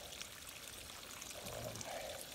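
Stream water flows over rocks at a natural water source on the Appalachian Trail, a steady, fairly quiet pouring trickle close by with no talking.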